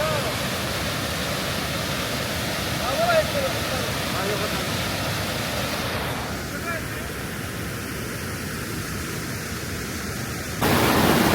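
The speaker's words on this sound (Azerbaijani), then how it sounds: "Bir şəlaləyə çatırıq." Qəmərvan waterfall in Qəbələ roaring as a steady, broad rush of falling water, continuous and close, with faint voices in the background.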